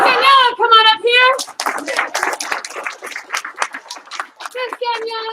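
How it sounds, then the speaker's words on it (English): A class of children claps in a patterned rhythm, a run of sharp, close hand claps framed by children's voices speaking before and after. "Your one clap, two claps."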